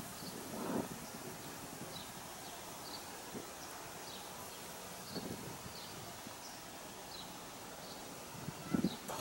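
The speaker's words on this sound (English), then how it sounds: "But it's quite windy." Wind gusts rumble across the microphone in occasional bursts over a faint rustling background at a marsh milkweed patch, with soft insect or bird sounds.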